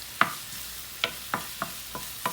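Green and yellow bell peppers with onion sautéing in a pan, a soft background sizzle punctuated by about six distinct spoon clicks and scrapes at uneven intervals.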